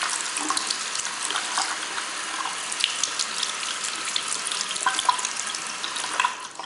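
A makeup brush is rinsed under a running tap, with a steady close splashing hiss of water that continues unbroken throughout and shifts slightly as the brush moves in the stream.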